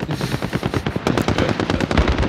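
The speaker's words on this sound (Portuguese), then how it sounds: "Tem que atirar no inimigo pra ele morrer." Rapid automatic gunfire in the video game Call of Duty Warzone, a loud, dense stream of close shots in quick, steady succession.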